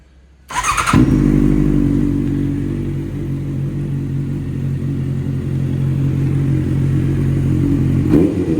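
A 2016 Honda CBR650F motorcycle with a JP exhaust cranks and fires up, then settles into a loud, rumbling idle with slight rises in revs, close by, ending with a brief blip.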